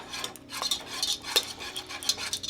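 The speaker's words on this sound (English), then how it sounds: "you're going to pretty much whisk this away until it melts" Cheese is whisked into a sauce for mac and cheese, a rhythmic series of metallic whisk clinks and taps against the pot, close and fairly quiet, with no talking.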